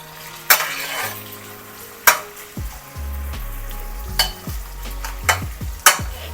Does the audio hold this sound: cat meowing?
no